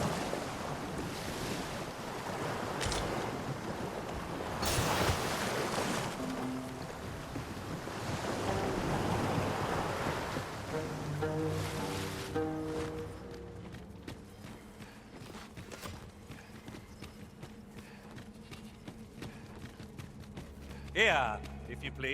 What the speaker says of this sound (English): This place offers a view of the sea.